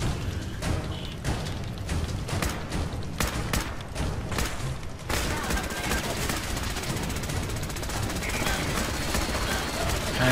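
A turret bot firing in Fallout 4, rapid repeated gunshots for about five seconds followed by a continuous dense roar of gunfire and impacts, loud throughout, with a player talking over it.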